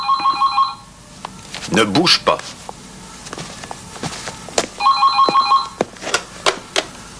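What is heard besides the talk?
telephone ringing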